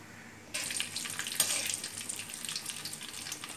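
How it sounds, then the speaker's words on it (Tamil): Cumin, fennel and bay leaf dropped into hot oil for tempering a Tamil-style ivy gourd masala, bursting into a loud, steady sizzle that starts abruptly and crackles on close by without any voices. "இப்போ நம்ம போட வந்து தாளிக்கிற ஜாமான் வந்து ஜீரகம், சோம்பு, பட்டை இலை மூணையும் போடுவோம்."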